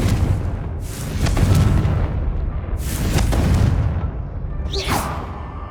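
Fiery blasting-spell explosions from a wizarding action game, several heavy booming bursts in sequence with a rising crackle near the end, loud and close over a rumbling low background.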